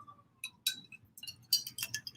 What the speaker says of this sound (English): As we drink Grey Goose in a wine glass